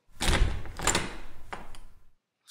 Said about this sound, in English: or even when you shut a door.